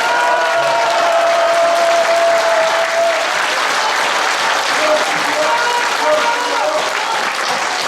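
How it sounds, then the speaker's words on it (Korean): Loud, sustained applause from a lecture audience, a thick continuous roar of clapping close and full across the whole stretch, with faint voices and a cheer or two mixed in. "박수 한번 하시죠."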